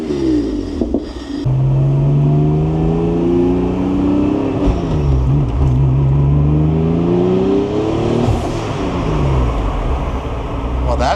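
A twin-turbo Acura NSX with a twin-disc clutch revs and accelerates, its engine climbing in repeated loud rising sweeps through gear changes, close and sustained for about eleven seconds.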